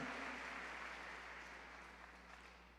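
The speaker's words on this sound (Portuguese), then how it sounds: "Dê um aplauso ao Senhor, dá um glória." A church congregation applauds during a Portuguese-language worship service, a broad clapping wash that slowly fades over a few seconds with no talk over it.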